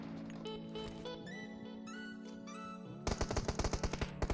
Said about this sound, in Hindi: मुझे मिल चुकी है M249 the machine gun, fucking machine gun